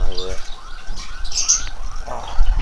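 Lovebirds in a breeding colony chirp and tweet in quick, bright calls, with a voice speaking briefly at the start.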